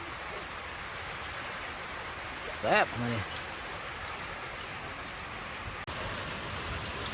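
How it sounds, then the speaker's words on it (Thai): Rain falling steadily outdoors, a constant broad hiss that continues throughout, with a brief spoken phrase from a man near the middle. "ฝนตกพี่น้อง ฝนตก"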